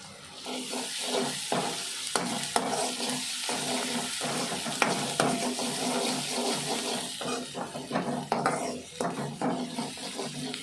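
Onions cooking with ginger paste in a pan make a steady frying sizzle, punctuated by scraping and stirring clicks, close and fairly loud throughout with no talking.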